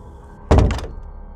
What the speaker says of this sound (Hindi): फिर उस आदमी ने अपने घर का दरवाजा बंद किया